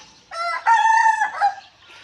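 A rooster on a Thai cattle farm crows once in a loud, clear, drawn-out call lasting about a second and a half, heard close and alone in the morning.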